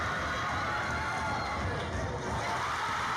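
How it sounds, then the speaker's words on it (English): A gym crowd at a basketball game roars in a dense, sustained wall of cheering and shouting that stays loud and unbroken throughout. "Crowd's loving it."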